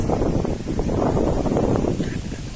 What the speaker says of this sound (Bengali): খুব হাওয়া হচ্ছে গাইস।